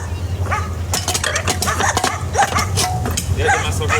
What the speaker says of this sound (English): Yeah, the massive dog